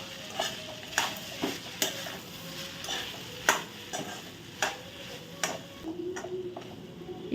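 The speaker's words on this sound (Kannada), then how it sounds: "ರೈಸ್ ಹಾಕಿದ್ದೀನಿ, ಮಿಕ್ಸ್ ಮಾಡ್ಕೊಳ್ಳೋಣ" Rice being mixed with curry leaves in a pan for jeera rice, soft sizzling under repeated spoon clicks and taps against the pan at an uneven rhythm, no talk.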